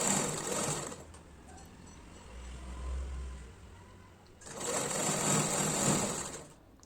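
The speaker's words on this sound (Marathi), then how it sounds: "त्याच्यावरती सरळ शिलाई करून घ्यायची आहे" A sewing machine stitches a straight seam along a blouse yoke strip, running in two loud, even bursts of rapid whirring stitching separated by a quieter pause with a low motor hum.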